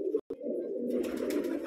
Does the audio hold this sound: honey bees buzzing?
no